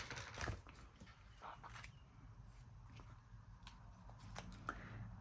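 A craft blade slicing through card stock for a textured floral aperture card, giving a few scattered scraping cuts and light handling clicks, close and fairly quiet.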